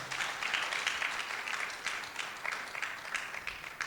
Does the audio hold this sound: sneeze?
no